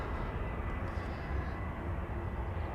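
EasyJet airliner rolling for takeoff from the runway threshold at Amsterdam Schiphol, a steady low jet-engine roar holding at an even, fairly strong level for the whole stretch, with no voices.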